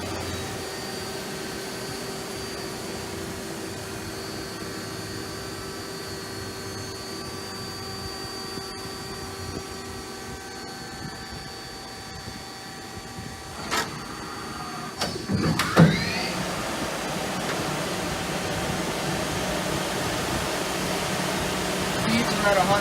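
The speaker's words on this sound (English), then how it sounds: "Spindle steps up." The spindle of a 2000 Mazak QT250 CNC lathe steps up in speed, a steady machine drone and hum with rising whine tones near the end and a brief clunk around the speed change, amid shop noise.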